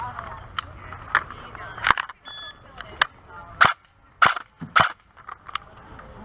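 An airsoft gun fires on a target practice range, giving sharp, close pops spaced about half a second apart, with people talking in between.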